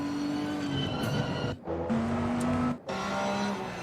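A GT3 race car in Assetto Corsa Competizione on PS4 at Zandvoort powers down the straight, its engine note climbing steadily, with two brief cuts for gear changes partway through.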